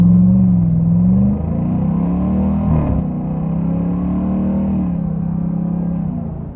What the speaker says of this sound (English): clearly the engine is just always pervasive in this car, no matter how you're driving it